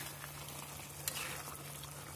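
Tofu and small anchovies stir-frying in chili paste, a soft steady sizzle with a brief scrape of the spatula partway through, quiet and close with no talking.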